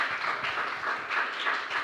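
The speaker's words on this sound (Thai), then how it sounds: "ขอเสียงปรบมือให้กับเอมและ ออมชั้น 11 ด้วยค่ะ" Audience applause for two grade 11 students at a secondary school problem-based learning oral presentation, a steady, dense patter of many hands clapping evenly throughout.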